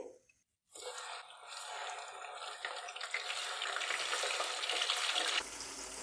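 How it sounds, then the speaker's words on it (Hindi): A kilogram of scored chicken legs fries with whole spices for biryani, giving a loud, steady, close sizzle that starts after a brief silent gap and builds gradually, with no talking. "अब हम चिकन को तकरीबन 7 से 8 मिनट फ्राई करेंगे।"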